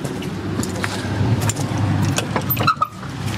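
A car pulling up close by, a steady low engine rumble rolling in with some jangling and rattling over it, loud and near, with no talk.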